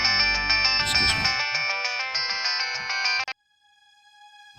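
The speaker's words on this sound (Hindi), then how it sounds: "वीर सर का फोन था" A mobile phone ringtone plays loud and close for about three seconds, a bright electronic melody that cuts off abruptly and leaves a faint tonal hum.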